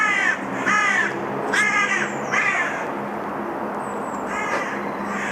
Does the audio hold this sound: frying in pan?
no